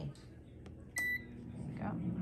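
An oven beeps when its start button is pressed after being set to the steak program at 400 for six minutes, giving one short, clear electronic tone with a softer blip before it, over room noise and a voice speaking.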